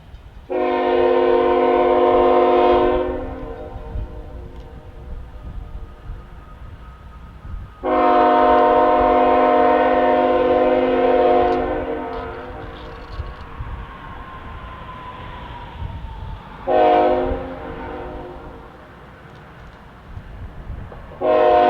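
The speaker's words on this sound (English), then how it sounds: "we watched from the overpass as the train slowly approached Asheville's West Yard" A Southern Railway freight train rumbles steadily nearby, heard from an overpass, while its horn blasts three times, two long blares followed by a shorter one, then a brief final toot.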